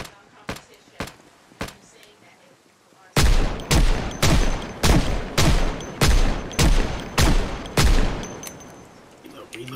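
Gunfire in the zombie survival game Project Zomboid: a few sharp spaced shots, then a quicker run of about ten loud evenly spaced bangs, each one close and punchy.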